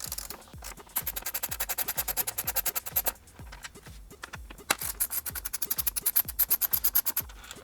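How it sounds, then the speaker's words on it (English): A 10mm socket wrench ratchets rapidly while removing fender bolts on a 2019 Honda CRF450L motorcycle, producing close, rhythmic clicking bursts in several runs with brief pauses between them. "Now using our 10mm socket again, we're gonna go ahead and remove these 4 bolts."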